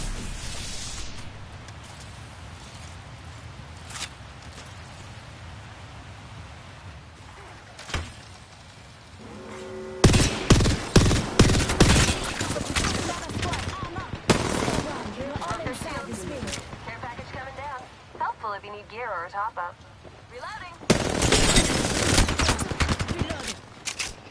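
Video game gunfire sounds in loud automatic bursts and rapid shots between quieter stretches, with some in-game voice lines mixed in.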